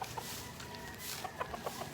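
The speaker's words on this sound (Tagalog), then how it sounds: "Yan, may mga manok." Chickens clucking in a quiet village in Naic, a few short calls scattered over a steady outdoor background, moderately near.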